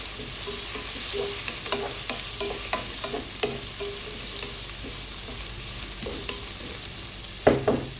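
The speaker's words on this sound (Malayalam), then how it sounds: "ഉള്ളിയിട്ട് നന്നായി വഴറ്റി കൊടുക്കാം" Onions sizzle and fry steadily in a hot pan, with occasional scraping stirs of a spoon and a louder clatter near the end.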